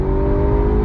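A Ferrari GTC4 Lusso T accelerates hard in second gear, its engine note a loud, steady rising roar heard up close from the cabin, with no talk over it.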